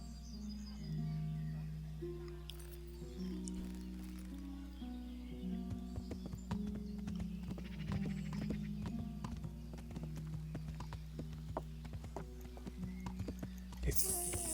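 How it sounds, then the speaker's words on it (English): Horse hooves clip-clop steadily as the animal arrives in the video game Kingdom Come: Deliverance, a rhythmic run of hoofbeats over a low background drone, with occasional soft tones. "now I can call a horse"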